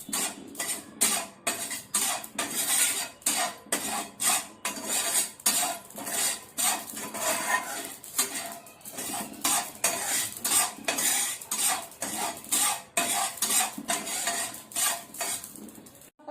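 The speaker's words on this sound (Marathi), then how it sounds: "आता खसखस आपण अशी बिना तेलाची भाजून घेऊया।" Poppy seeds dry roasted in a pan without oil for an egg curry masala, stirred with a utensil that scrapes the pan in quick, steady strokes. The scraping and clinking repeat all the way through, close up, with no voices.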